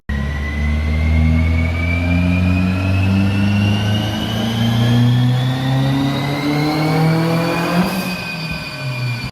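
Ford Focus-based FQ400 engine heard through its center exit exhaust, loud and close, revving steadily with rising harmonics as it pulls through the gears, a brief shift near the end.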